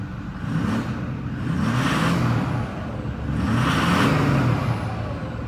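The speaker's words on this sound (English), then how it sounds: "You can definitely hear the turbo speed." A Ford F-250 diesel pickup engine idles and revs twice in neutral, each rise bringing a rising whistle of a turbo spooling up, close and fairly loud.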